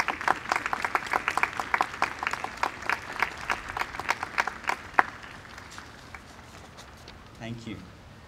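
A graduation audience applauding standing parents outdoors, dense clapping that is brisk at first, then thins and fades over the last few seconds, with a voice speaking briefly near the end.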